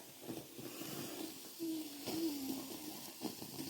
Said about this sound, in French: Vous entendez comme ça crépite là?